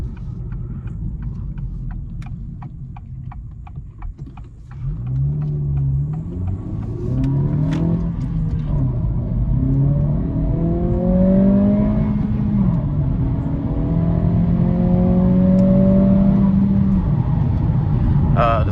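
A 2023 Acura Integra A-Spec with a 6-speed manual gearbox accelerates through the gears from inside the cabin. Engine notes rise with quick shifts, preceded by faint clicking and steady road rumble.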